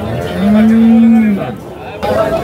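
Cows at the Sangola cattle market in Maharashtra give one loud, close, drawn-out moo, with faint crowd chatter in the background.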